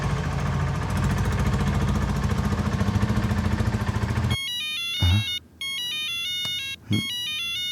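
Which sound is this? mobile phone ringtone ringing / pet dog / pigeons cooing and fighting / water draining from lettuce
mobile phone ringtone ringing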